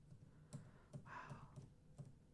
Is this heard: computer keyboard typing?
yes